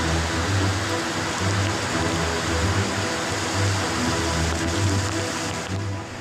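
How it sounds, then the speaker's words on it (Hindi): Floodwater pours forcefully down a flight of stairs in a flooded Indian city, a loud, dense, steady rush that stays close, with no voices over it. "पानी प्रचंड वेग के साथ सीढ़ियों से नीचे है"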